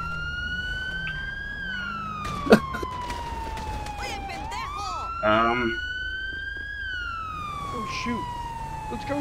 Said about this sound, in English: Whoa, he's changing sirens on me.